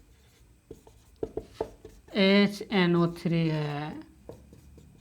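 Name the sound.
writing on a board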